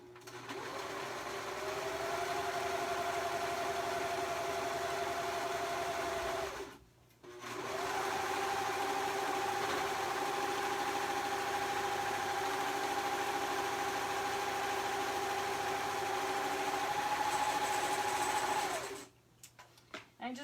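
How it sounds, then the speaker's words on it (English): A sewing machine sews cuffs onto pants in two long steady runs with a droning motor whine and a short pause between them, heard close and fairly loud without talk. "I'm going to sew the cuffs on this"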